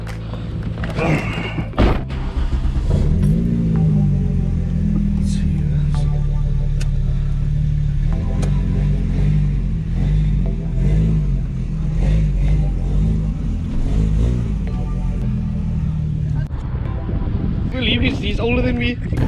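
A Volkswagen Golf drives in with its engine rumbling low and steady close by and a thump or two near the start. People talk over the engine for much of the time.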